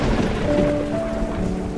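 Heavy rain pours steadily with a low rolling rumble of thunder underneath, a dense continuous wash at close range with no voices.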